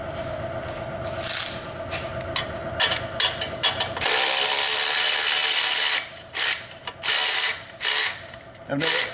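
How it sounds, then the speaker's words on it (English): Electric ratchet removing bolts from the transfer case of a Traverse, Acadia or Enclave, loud close bursts of buzzing ratchet whir separated by pauses and clicks. "Get my electric ratchet now, because I'm lazy."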